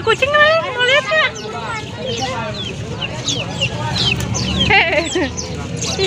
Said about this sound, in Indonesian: Ih, banyak ayam nih.